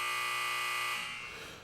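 A loud, steady electronic buzzer blares for about a second, then fades away.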